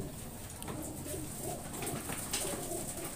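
Racing pigeons in a loft in Nueva Ecija, Philippines, cooing softly and steadily at a low level, mixed into a constant background hiss without speech.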